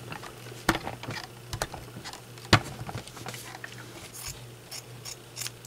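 Scissors snip through a strip of black tonal quilting fabric in a run of quick, irregular crisp cuts and clicks over a low steady hum, with one sharper snap partway through.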